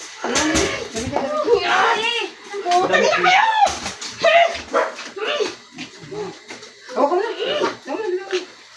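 Several dogs bark, yip and whimper repeatedly at close range while people talk over them throughout.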